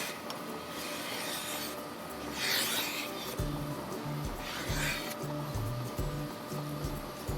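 A cow milking machine's vacuum pump runs with a steady mechanical hum and rhythmic pulsing thump, plus intermittent hissing rushes.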